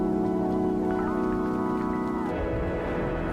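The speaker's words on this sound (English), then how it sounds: "Oh, there's the rain." Rain falls beneath the music of a song, a steady hiss woven under sustained synth tones that thins out near the end.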